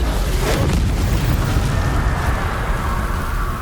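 A loud, close Confringo blasting spell in the Hogwarts Legacy video game erupts in a deep, sustained boom with a crackling, rain-like rush of debris that rolls on for several seconds.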